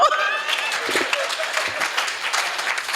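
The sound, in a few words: applause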